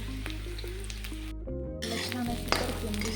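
Green chilies tossed into onions browning in a pan, with sizzling and stirring under a tonal background hum and a sharp clink near the end.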